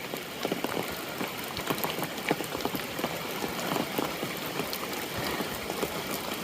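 Heavy rain pouring on the Appalachian Trail in Vermont, a dense continuous patter of drops hitting nearby surfaces with no voices.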